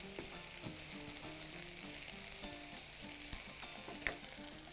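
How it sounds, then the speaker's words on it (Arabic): Onions fry in a pan with tomato sauce, a low, steady sizzle with scattered pops and clicks, broken by a few sharper knocks as they are stirred. "ما ننساش نقلب البصل"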